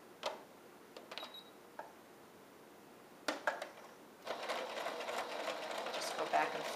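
Sewing machine straight-stitching ribbon onto elastic for a pettiskirt, starting after a few clicks and taps and running quietly and steadily through the final seconds.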